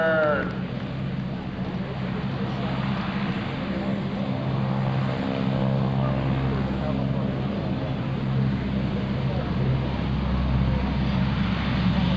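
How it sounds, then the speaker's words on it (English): The Blue Angels C-130 Fat Albert propeller transport flies past at the 2003 New York International Airshow, a loud, steady droning engine roar that stays strong throughout while an announcer speaks over the public address. "the Blue Angel C-130."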